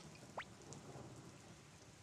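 Soft, steady rain falls in the Suikoden video game as a faint, even hiss, with one brief rising chirp near the start.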